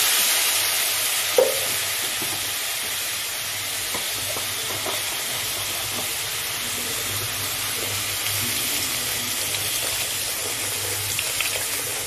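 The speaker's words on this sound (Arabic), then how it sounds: "ونقلبه ونشوح" Rice being stirred and sautéed in a pan, with a steady low sizzle and occasional scrapes and clinks of a utensil throughout, fairly close and with no talking.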